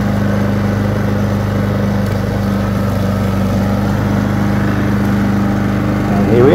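Lawn mower running over a wet lawn covered in leaves, a loud, steady mid-pitched engine drone that holds the whole time, swelling slightly at the end.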